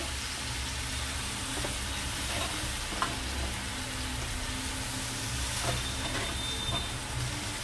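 Malabar spinach (pui shak) curry fries in a pan with a steady, loud, continuous sizzle and hiss throughout, broken by a few faint clicks of utensils.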